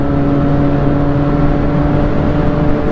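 A motorbike ridden along the road, giving a steady engine drone with a constant low hum and rushing wind, loud and close to the rider, with no talking.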